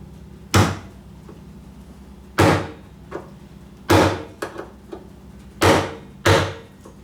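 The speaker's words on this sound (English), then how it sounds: "Take a flathead screwdriver and use that to tap on it with." Sharp metallic-wooden taps from a flathead screwdriver striking slotted rivets on a Wildgame Innovations Evolution 225 deer feeder: five or six distinct, fairly loud knocks at an irregular pace, with a few softer clicks between them and no talking.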